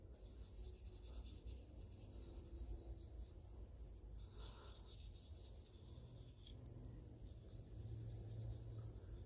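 Tru-Oil finish is rubbed by hand into a wooden SKS rifle stock, a soft, continuous close friction hiss with steady low rumble and no voices.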